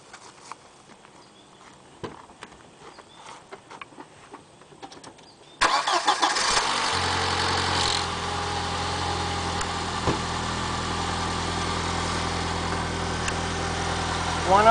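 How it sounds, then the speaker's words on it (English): An Audi car engine fitted with a hydrogen (HHO) system cranks and starts after a few quiet clicks and faint sounds, then settles into a steady, even idle close by. "let's start it up and take a look at this."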